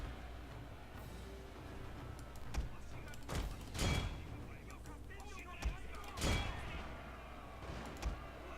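Shotgun volleys ring out in a Shogun 2 battle: a handful of sharp, cracking bursts scattered irregularly over a low battlefield rumble, fairly quiet overall, with a faint murmur of voices underneath.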